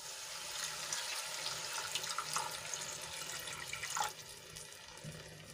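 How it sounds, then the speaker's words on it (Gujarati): A glassful of water pours steadily into a pan of gravy, a soft continuous splashing with a slight gurgle near the end, fairly quiet. "અહીંયા હું એક ગ્લાસ જેટલું પાણી એડ કરું છું"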